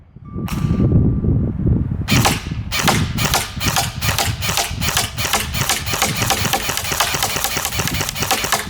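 A Barra 400E Gen 2 all-metal electric .177 BB machine gun fires full-auto in a steady burst of sharp, evenly spaced cracks lasting several seconds, loud and close over a low motor whir, preceded by a brief single pop.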